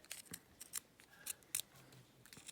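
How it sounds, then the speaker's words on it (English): Scissors cutting fabric around a pattern piece, a series of quick, close snips in an irregular rhythm, with a few sharper clicks of the blades and no talking. "pop it down onto my fabric, cut around it"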